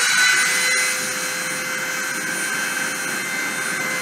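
A CNC spindle running at 30,000 RPM during a deposition pass gives a steady high-pitched whine with a constant tonal line over a broad hiss. It stays loud and even throughout, and no voices are heard.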